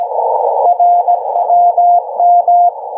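RWM shortwave time station identification signal received on a shortwave radio: a steady mid-pitched tone over band noise, keyed into clipped Morse-like beeps in short groups, loud and alone with no voices.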